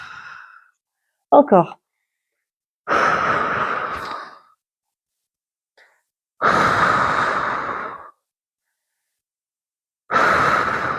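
Deep breaths during a muscle-strengthening workout: several long, loud exhales, each lasting about a second or more, separated by quiet pauses, with a brief voiced word spoken between them.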